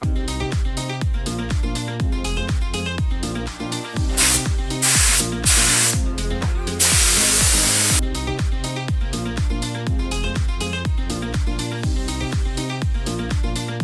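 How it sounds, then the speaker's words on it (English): Spray gun applying clear coat to a car, with a couple of short, loud airy hissing bursts midway, set over rhythmic background music that carries on throughout. "The clear coat clip was really short because the clear coat oversprays like crazy."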